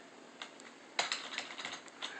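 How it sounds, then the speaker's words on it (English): Typing on an external keyboard connected to an Android tablet: quiet, uneven key clicks in short bursts, some keystrokes sharper than others, with no voices. "this is a test for using the external keyboard on the tablet"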